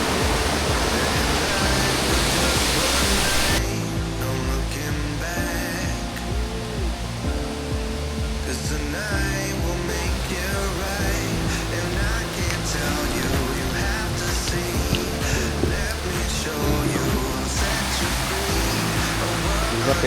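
Steady rushing water from a flowing stream with green algae-covered rocks on a nature trail, a continuous broad hiss, with faint tonal music or voices blended in underneath.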